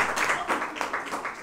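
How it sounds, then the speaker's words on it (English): A studio audience gives a brief burst of applause for a 15-year-old mathematics olympiad champion, a dense, close patter of many hands clapping at once. "A round of applause for"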